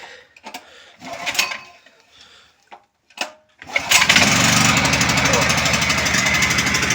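A generator engine is pulled into life after a few handling knocks and a person speaking, then settles into a loud, steady idle that drones on close by until the end.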